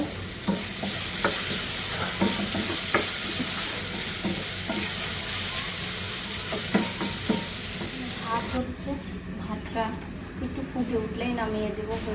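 Food fries in a pan with a constant loud sizzle and repeated scraping stir strokes, while a person talks over it throughout.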